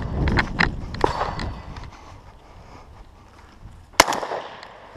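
Sharp gunshots crack at a 3-gun shooting match, a cluster of quick reports early on followed by a single loud close shot near the end, with faint outdoor noise and brief talk around them.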